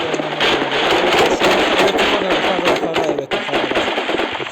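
Gunfire in the mobile shooter game Blockpost Mobile comes as loud, dense automatic bursts, rattling almost continuously with only brief breaks.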